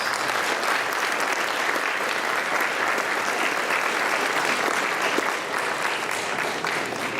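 A dinner audience breaks into sustained applause for an honoree's family at a community unity dinner, steady dense clapping filling the room at an even level from start to finish.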